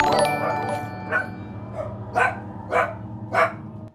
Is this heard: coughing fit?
no